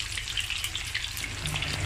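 Stuffed tofu frying in a pan of hot oil, a steady close crackling sizzle with dense bright spatter that holds evenly throughout, with no talking.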